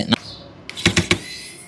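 A few short mechanical clicks and clatters from an old cassette player mechanism turning intermittently, irregular and stop-start, close by and fairly quiet.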